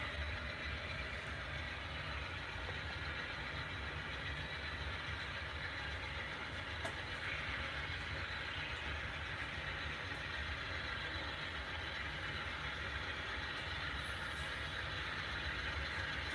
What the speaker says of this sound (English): there's the stack train below, coal train up above